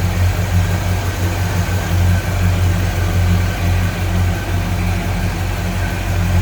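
A 1972 Cadillac Eldorado with a 500 cubic inch V8 and automatic transmission idles steadily up close, a deep, even low rumble running throughout with no talk.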